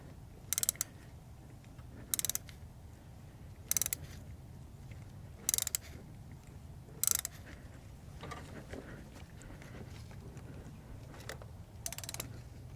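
Hand tap cutting new spark plug threads into an aluminum cylinder head of a Toyota 5S-FE engine, with sharp ratcheting clicks in separate bursts about every one to two seconds over a faint mechanical background.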